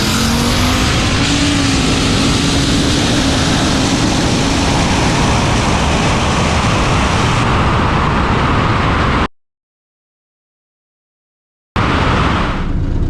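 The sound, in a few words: drag race cars accelerating down the quarter mile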